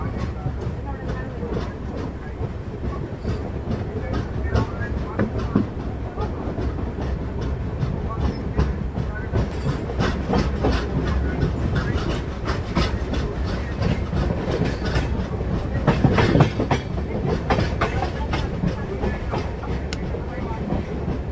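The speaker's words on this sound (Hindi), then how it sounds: "पूरे 1 मिनट रुकने के बाद अब ट्रेन कर चुकी है यहाँ से डिपार्ट।" The 12057 Una Jan Shatabdi Express runs on Indian rails after departing a station, giving a steady loud rolling rumble with rhythmic clickety-clack of wheels over rail joints throughout.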